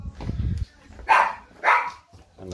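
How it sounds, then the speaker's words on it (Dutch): Two loud, sharp dog barks from several dogs coming to greet someone at a door, separated by a short pause, with low rumbling handling noise before them. "En daar zijn de honden, die komen eventjes begroeten."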